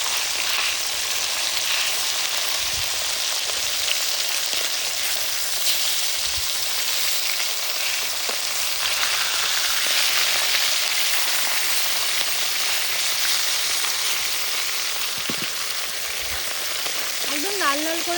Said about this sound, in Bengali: একদম লাল লাল করে ভেজে নেব মাছগুলোকে।